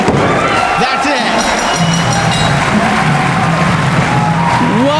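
A large wrestling crowd at the Murphy Rec Center cheers and roars continuously at a ROH event, a dense wash of noise with whistles and shouts, while a commentator talks over it.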